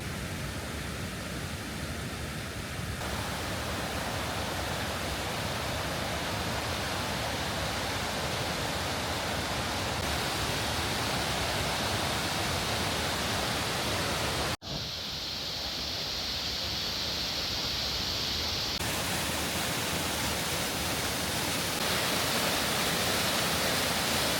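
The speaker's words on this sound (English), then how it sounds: "do you think this is the first waterfall you've actually ever seen?" A waterfall swollen by snowmelt roars as a constant, dense wash of white noise, loud and close, unbroken for the whole stretch with no talk over it.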